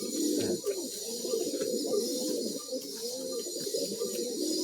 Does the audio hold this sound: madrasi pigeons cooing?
yes